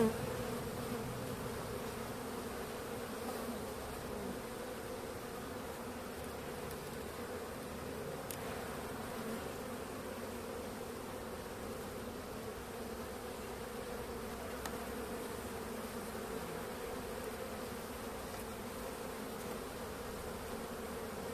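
Anatolian honey bees swarm around an open hive at winter's end, a steady, dense buzzing drone that holds evenly throughout with no voices.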